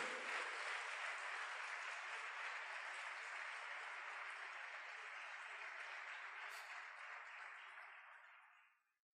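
A church congregation applauds steadily for several seconds, a dense wash of clapping at moderate distance that holds even and then fades out at the end.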